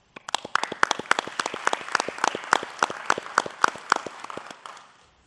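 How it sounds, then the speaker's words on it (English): A short burst of applause from a small group at a city council meeting, brisk claps that rise quickly and fade out after about five seconds. "If we could give them one more round of applause."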